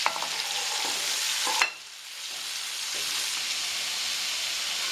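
Onions fry in a pan for a Tamil spicy chicken dry roast, a steady close hiss of sizzling with a brief stirring scrape before the sizzle settles into a softer, even crackle.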